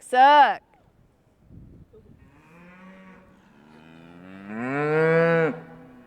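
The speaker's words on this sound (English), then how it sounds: "A few of the cattle crest the hill and start moving towards Blackwell, one in particular" Cattle on a hillside moo in answer to a call: one short loud moo at the start, then a long, drawn-out moo that swells and fades toward the end, with a quiet voice-like murmur between them.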